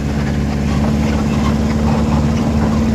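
A car engine drones steadily and loudly as a driver in second gear drives along Hanspukur road, with a constant low hum and a rough mid-range roar that never lets up and no voices over it.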